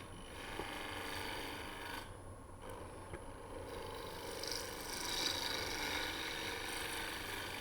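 A scraper works back and forth across the bottom of a wooden wig stand, giving faint, repeated rasping strokes over a steady background hum.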